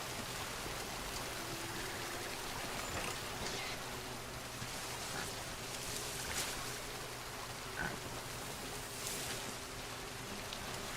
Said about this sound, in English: I hear running water here.